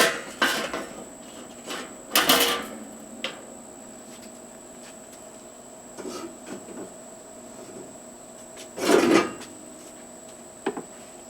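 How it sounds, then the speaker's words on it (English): Charcoal coals are dumped into the middle of a grill and the metal grate is set back down, giving a few sharp clattering bursts with quiet gaps between them over a faint steady hum. "And then I'm going to set the grate back down."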